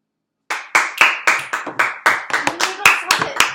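A small group claps hands in an uneven burst of about a dozen sharp, close claps spread over a few seconds after a moment of silence.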